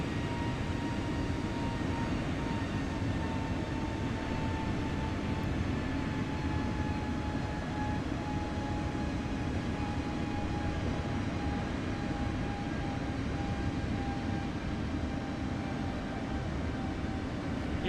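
A British Airways airliner cruises in Microsoft Flight Simulator, giving a steady, even jet engine drone with a faint high whine running through it, unbroken and without voices throughout.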